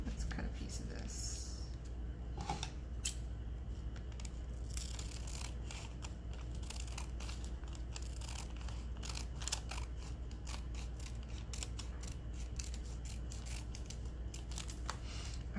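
Scissors snipping through paper while cutting pieces for junk journal tags at a craft table, a steady run of small crisp cuts and rustles over a low background hum, close and fairly quiet.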